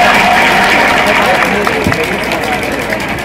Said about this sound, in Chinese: 请大家热烈掌声欢迎一下我们的副局长